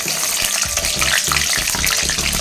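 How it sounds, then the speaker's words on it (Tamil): Fenugreek seeds dropped into hot oil for a bitter gourd tamarind curry, giving a steady, close sizzle and crackle with faint stirring scrapes, no talking. "எண்ணெய் காஞ்சிருச்சு. இப்போ வெந்தயம் போட்டுக்குவோம்."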